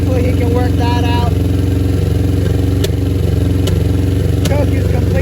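Carbureted 1992 Suzuki Katana 750 GSX750F with bad gas, idling high and steady up close, with a loud continuous engine drone, light clatter and a few brief clicks.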